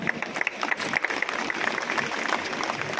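Applause for an MLA at a prize ceremony, a crowd clapping in a dense, steady patter with scattered louder claps, moderately near and continuous throughout.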